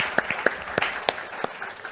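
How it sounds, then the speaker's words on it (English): A handful of people in a small debate audience clap in scattered, uneven claps spread over two seconds, about six or seven sharp individual hits rather than a full ovation, with no talking. "You can clap 6 times if you want."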